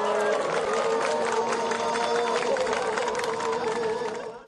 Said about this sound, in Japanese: 命がけの大技が決まると会場からは大きな歓声と拍手が起こりました。